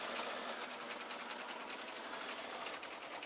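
A sewing machine hums faintly and steadily in the background of a workroom, with a continuous fast mechanical stitching whir.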